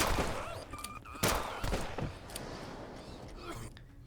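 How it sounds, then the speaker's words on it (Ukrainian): Gunfire from hostile drones in the zombie shooter game Zompiercer, set in dark tunnels: several sharp shots and bursts in the first half, then quieter scattered bangs over a steady game ambience. "дрони, до речі, дрони стріляють"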